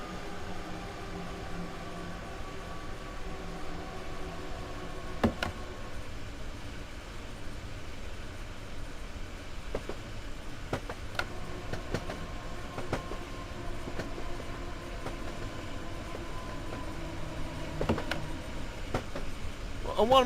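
Train running on a Train Sim World route, a steady rolling rumble with faint clickety-clack and occasional sharp clicks, moderately loud and continuous throughout without talk.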